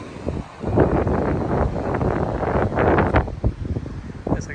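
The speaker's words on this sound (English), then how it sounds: "The wind does pick up the sand and accumulates it and moves it around." Steady wind blowing across a sandy Florida beach at Vilano Beach, a continuous rushing buffet of gusts against the microphone with rumbling low noise throughout, loud and close.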